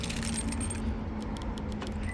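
Genuine Isuzu factory keys for a 2022 Isuzu MU-X jangle steadily and close by, a continuous metallic clinking with no talk.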